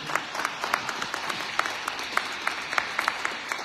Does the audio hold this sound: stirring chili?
no